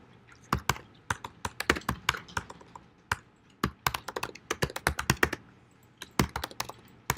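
Close fingers type on a computer keyboard during a MySQL database exercise, producing crisp irregular key clicks in quick clusters with short pauses between runs, with no talking.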